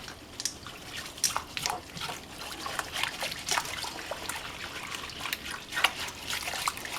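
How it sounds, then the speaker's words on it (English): Spices being slowly stirred into water for homemade New Orleans jambalaya, giving soft, continuous trickling and dripping liquid sounds with small irregular splashes, close and fairly quiet, with no talking. "I'm gonna slowly stir it and mix it with my water to make sure all the spices dissolve evenly"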